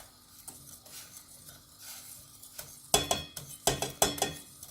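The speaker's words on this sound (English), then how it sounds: "add the flour really slowly and mix it while you're doing it until it's really smooth" Flour is stirred into cake batter, starting with faint, quiet scraping before louder, quick clattering strokes of a utensil against the bowl in the final seconds.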